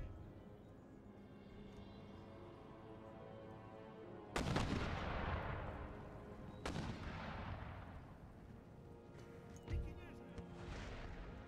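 Demi cannon artillery in the Empire Total War video game fires in a few heavy booms with long rumbling decay over a steady battle din, spaced several seconds apart, while someone talks faintly underneath.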